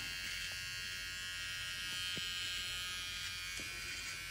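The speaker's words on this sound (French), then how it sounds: "c'est clairement, pour moi, la meilleure tondeuse depuis que je la connais" An electric beard trimmer hums in a steady, faint, continuous buzz, with a few light clicks or contact sounds as it works.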